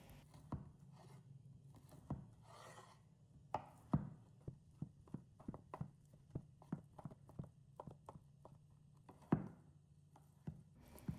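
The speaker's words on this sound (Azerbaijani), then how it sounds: "Toyuq ətini doğrayıb qaba əlavə edirəm" Cooked chicken breast being chopped into cubes with a knife on a board, a rapid series of sharp, close knocks in an uneven rhythm, with no talking.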